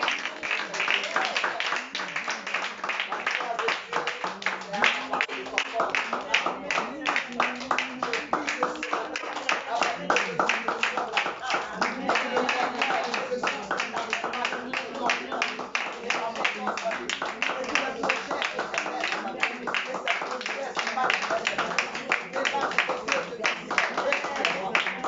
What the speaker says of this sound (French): Tu vas t'acclamer toi-même parce que tu as été fort.